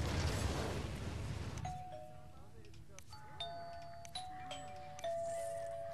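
In the city-building game SimCity (2013), a doorbell ding-dong chimes several times as clear tonal notes over low background noise, with brief talking near the start.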